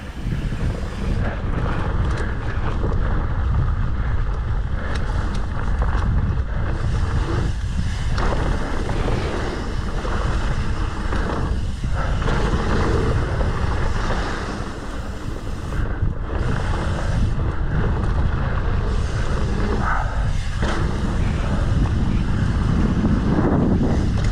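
Strong wind buffets the microphone in a continuous, loud low roar that rumbles throughout with only slight dips, outdoors near open water with no voice.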